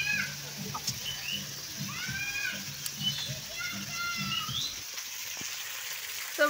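Chicken meat cooking in a pan at home at night gives a soft, steady sizzle under children's voices and chirping in the background.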